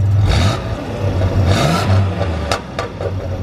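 A truck engine idling and revving through a newly replaced shiny silver exhaust, a loud, close, low rumble with rising surges and some mechanical clatter.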